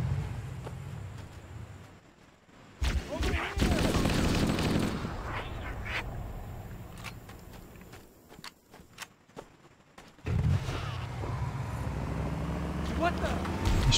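Gunfire and combat noise from Halo: Combat Evolved on the original Xbox, with scattered shots and sharp impacts between quieter stretches, over game audio and talk.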